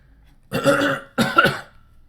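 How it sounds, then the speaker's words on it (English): A man gives two quick, close coughs in a quiet room, each a short voiced burst with a brief gap between them. "I coughed spontaneously."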